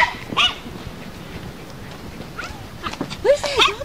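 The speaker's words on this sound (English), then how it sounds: "Frank, there's a doggy" Dog giving short whimpers and yips in a few separate bursts, moderately close, with quieter background noise between them.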